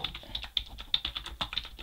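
Steady, quick typing on a computer keyboard while setting up a service unit file on a Linux virtual machine, close and fairly quiet, with a dense run of key clicks and no talking.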